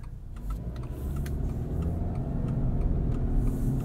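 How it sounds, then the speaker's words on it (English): A steady, low engine rumble fills the clip, continuous and fairly loud, with a faint rhythmic ticking over it and no voices. "You hear a little bit of a boxer rumble in the background"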